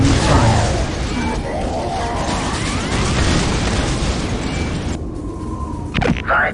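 Explosions and bursts of gunfire rumble continuously in the strategy game Dawn of War Dark Crusade while units are under enemy fire, a dense loud wash of battle noise with a sharp crack near the end.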